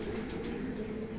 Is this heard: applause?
no